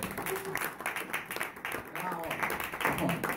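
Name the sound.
audience applause for the drummer at a concert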